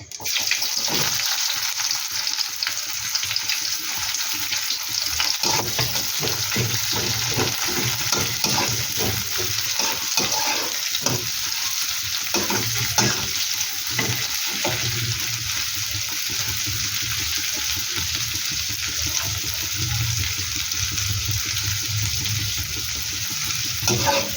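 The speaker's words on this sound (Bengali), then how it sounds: "পেঁয়াজটা একটু হালকা করে একটু ভেজে দেবে" Onion sizzles steadily in hot oil with cumin in a pan, with frequent scraping stir strokes and clinks over a continuous close, even frying hiss and no talking.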